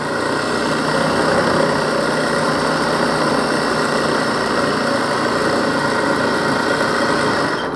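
A sewing machine runs a final reinforcing seam across fabric, a loud, continuous, even motorised whir with no breaks.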